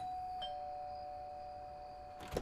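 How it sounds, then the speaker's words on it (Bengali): A calling bell at a roadside house sounds a sustained electronic chime that rings on steadily in a quiet setting, followed by a brief knock-like clatter at the end. "আমি খাবার হাতে নিয়ে কলিং বেল চাপি"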